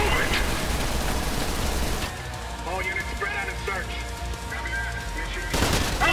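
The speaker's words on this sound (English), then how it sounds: "I hear an LMG guy." Light machine gun fire from an enemy in the shooter game Trepang2, rapid bursts of gunfire heard amid the game's clatter, with a short lull in the middle before heavy firing resumes.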